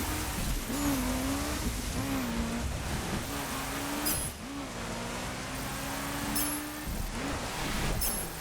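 A car drifts in The Crew, its tires squealing in long wavering whines over a steady engine drone, with a few short repeated squeals.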